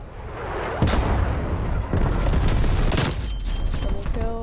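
A sharp rifle crack from a sniper shot in a shooter video game lands over a steady rumbling game soundscape, followed by more distant booms and a short electronic tone pattern at the end.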